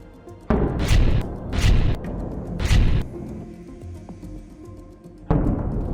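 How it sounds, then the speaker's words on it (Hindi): A rocket strikes a building: three heavy booming blasts in quick succession, then a quieter rumbling stretch and another loud impact near the end. "जैसे ही ये रॉकेट उस बिल्डिंग पर लगता है, बिल्डिंग में जोरदार धमाका होता है।"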